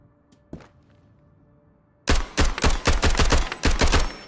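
MP5 submachine gun fire in the video game Road To Vostok: after a quiet stretch with one soft knock, a loud close rapid burst of about a dozen sharp evenly spaced shots.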